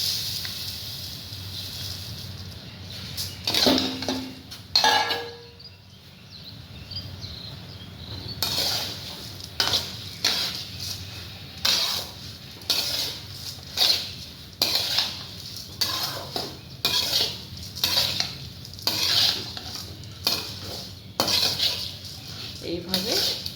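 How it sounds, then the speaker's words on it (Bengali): Puffed rice (mudhi) with cumin being stirred in a pan, heard as a steady run of rhythmic metallic scrapes and clinks of the spoon against the pan, close and clear, with a faint sizzle and no voices. "এইভাবে 1 মিনিট মতো নাড়াচাড়া করলেই হবে"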